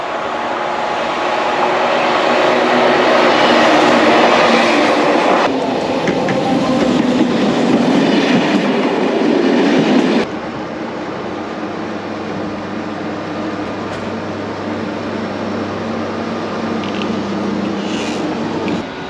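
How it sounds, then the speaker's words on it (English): TGV high-speed train passing on a rail line in Switzerland or France: a loud, steady roar and rumble of rolling stock close by, easing slightly partway through as the cars keep streaming past. "Whatever this is, it's a TGV, I think."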